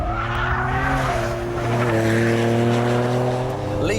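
A Noble sports car engine roars steadily at wide-open throttle as the car slides sideways, its harmonic drone rising and falling in pitch with a faint tyre squeal mixed in, loud and close throughout.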